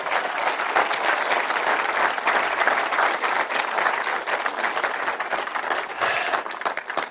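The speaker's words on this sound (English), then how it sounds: "Give them a round of applause." An audience at a network marketing presentation claps in a loud, dense, sustained round of applause that continues steadily for several seconds without speech.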